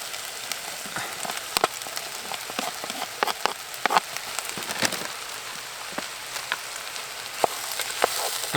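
Sliced mushrooms and onions fry in a pan on a Trangia camping stove at a wild camp, giving a soft, crackling sizzle with irregular pops and spits over a gentle steady hiss.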